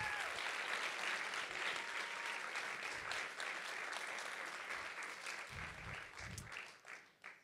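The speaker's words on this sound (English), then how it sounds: "Can we give one big round of applause for all these teams?" Sustained audience applause at a startup demo day event honoring the pitching teams, a dense wash of clapping from a large crowd that holds steady before thinning and tapering off near the end.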